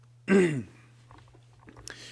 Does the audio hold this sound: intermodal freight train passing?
no